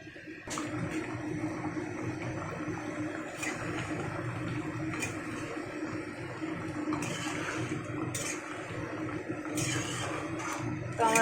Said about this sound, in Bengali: এখন কিছুক্ষণ ফুটবে, কিছুক্ষণ ফোটাবার পরে একটু ধনেপাতা দিয়ে নামিয়ে নেব।